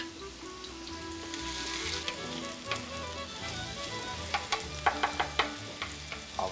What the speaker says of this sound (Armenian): Տապակում ենք։